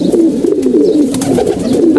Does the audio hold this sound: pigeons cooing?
yes